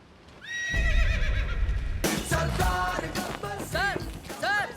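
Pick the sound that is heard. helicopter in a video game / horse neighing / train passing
horse neighing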